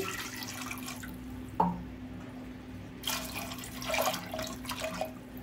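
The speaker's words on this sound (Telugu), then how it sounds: "ఒక 2 గ్లాసుల వరకు అయితే వాటర్ అయితే పోస్తున్నానండి" Water is poured into a pressure cooker of soaked chickpeas in short, quiet splashes and trickles, with brief pauses between the pours in an otherwise still kitchen.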